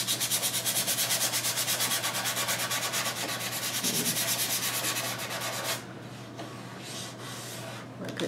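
Steady, rapid back-and-forth rubbing of sandpaper over milk paint on a wooden virginal, close and loud for most of the span, then softer and lighter strokes toward the end.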